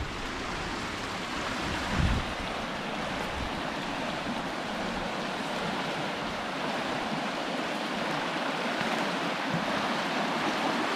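A shallow creek's steady, broad rush of flowing water continues throughout, with a faint wind-like hiss and one brief low thump early on.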